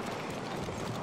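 Quick, steady hoofbeats of a horse at a run, continuous and fairly close, over a busy game soundscape with no speech.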